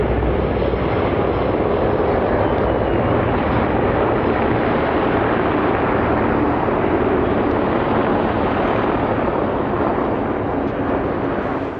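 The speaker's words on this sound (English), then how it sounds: "Accompanying it are 4 MiL Mi-8 HIP transport and assault helicopters" Several Mil Mi-8 Hip transport and assault helicopters pass in formation, a loud, steady, dense engine and rotor roar that holds unbroken from start to end with no talk.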